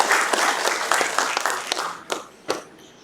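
Applause at a climate and carbon-neutrality policy forum rings out from a seated audience, a brisk burst of many hands that thins to a few scattered, louder claps before fading.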